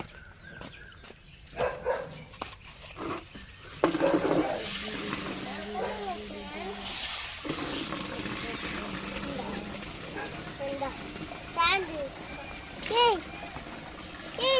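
Water splashes and sloshes as aquarium sand is rinsed in a bucket, intermittent and fairly close, with people talking over it and a dog barking briefly.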